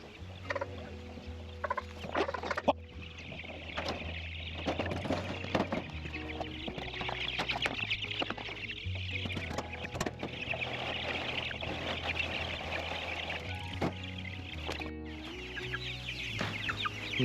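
Broiler chickens cluck and chatter in a busy flock, with a low steady engine hum underneath throughout and bursts of louder calls rising over the continuous poultry noise.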